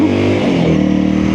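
A 2022 Honda CRF300L in supermoto trim runs close by on a parkway, its single-cylinder engine droning loudly and briefly as the revs drop slightly.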